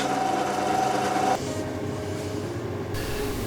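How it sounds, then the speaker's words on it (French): A drill bores holes in a metal bed frame, first with a 6 mm bit and then a 10 mm bit: a steady, high-pitched motor whine up close that shifts in tone partway through the cut. "Je perce d'abord à 6 et ensuite à 10."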